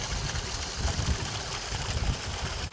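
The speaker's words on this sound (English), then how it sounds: "So I wasn't lying when I said there was a waterfall." A waterfall in the Yorkshire Dales roars with a broad, steady rush of falling water close at hand, unbroken and without voices.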